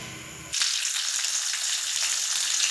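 Chillies dropped into hot oil, a sudden burst of bright, loud sizzling that then holds as a steady close crackle with no voices.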